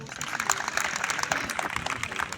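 Schoolchildren at a Nehru Yuva Kendra National Youth Day event giving a burst of loud applause, many hands clapping close together, with some voices mixed in.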